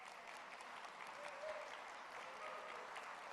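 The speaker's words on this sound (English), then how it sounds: "Let's give them all a grand round of applause." An audience applauds at a city's State of the City address, a steady, even wash of clapping that is faint and distant and continues without a break.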